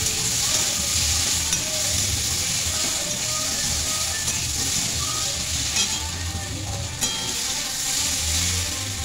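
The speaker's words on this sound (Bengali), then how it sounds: "এরপর দিয়ে দিচ্ছি ভেজে রাখা আলু। একটু হতে দিয়েছিলাম ঢাকা দিয়ে। আবার একটু নেড়ে নিচ্ছি।" Fried potatoes stirred in a covered-then-opened pan for a vegetable curry, with a dense, steady sizzle up close and soft, frequent scraping of the spatula running underneath.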